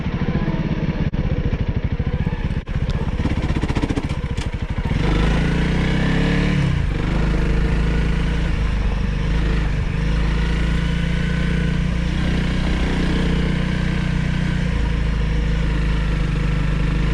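A new Honda CRF300L ABS motorcycle rumbles steadily while being ridden, its engine note loud and continuous with a low drone, after a few sharp clicks and knocks at the start.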